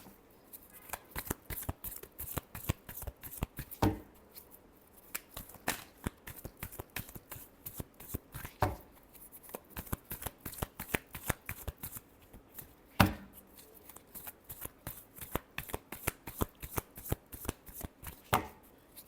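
Tarot cards being shuffled repeatedly by hand, quick close riffling flicks and soft slaps in steady bursts with brief pauses, fairly quiet.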